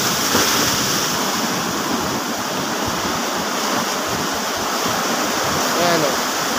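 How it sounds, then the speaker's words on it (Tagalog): Strong ocean waves breaking on a beach beside a beach hotel give a loud, steady broadband roar of surf that continues unbroken, with wind buffeting the microphone. "sa lakas ng alon"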